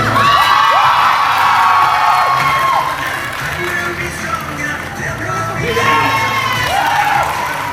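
Children at a freestyle football show put on at a competition venue cheer, whoop and clap as a crowd. The sound is loud and sustained, with shrill rising shouts at the start and again near the end.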